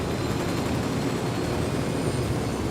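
Helicopter in the video game Ghost Recon: Wildlands, a steady, loud rotor and engine roar that fills the whole stretch without a break.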